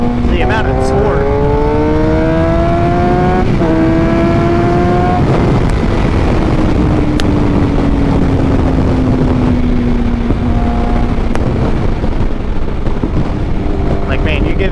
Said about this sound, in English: you give this bike gas, it goes.